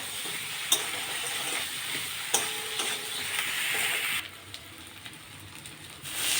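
Spice paste with Kashmiri chilli powder, salt, turmeric and sugar being stir-fried in a pan for soyabean muithya, a continuous close sizzle with occasional sharp utensil knocks, the frying hiss dropping quieter near the end.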